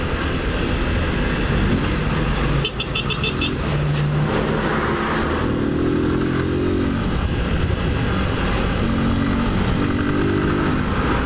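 Motorcycle ridden on a road trip between Jacareí and Barueri, Brazil, its engine droning steadily and loudly close up with wind rush, shifting pitch as it accelerates, other traffic passing around it.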